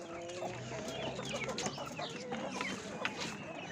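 Chickens cluck and chatter continuously at a poultry market, several birds close by, with a busy overlapping flock sound throughout.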